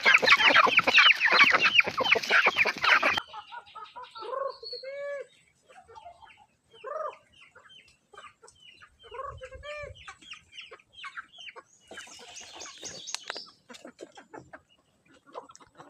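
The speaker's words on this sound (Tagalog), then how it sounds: "So itry natin ipakain sa mga manok natin na marami." A flock of chickens clucks while pecking at feed mixed with fermented leaves: a dense, loud burst of calls at first, then scattered close clucks and short squawks with quiet gaps, and no talking.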